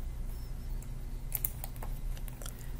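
Quiet, quick keystrokes on a computer keyboard while entering a command in 3D modeling software, a short run of soft taps over a low steady hum, no talking.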